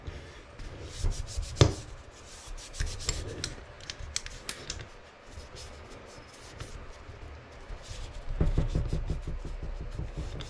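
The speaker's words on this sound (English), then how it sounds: "I'm wiping off any excess oil that might have got on it" A cloth rubs and wipes excess oil off AR rifle parts: close, dry scrubbing strokes that come in uneven bursts, with one sharp knock partway through and a busier stretch of rubbing near the end.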